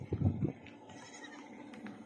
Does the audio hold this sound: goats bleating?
yes